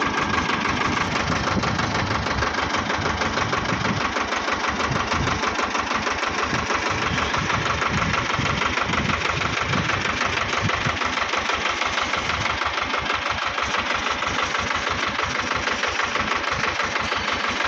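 Tractor engine running steadily on a ride along a rough rural road, a loud continuous mid-low throb with a regular knocking pulse and no talk.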